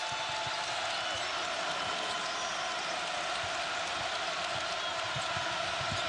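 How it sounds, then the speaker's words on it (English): An Ohio State at Purdue college basketball crowd fills the arena with a steady, dense roar, with faint ball bounces and commentary beneath it. "This crowd can get lively"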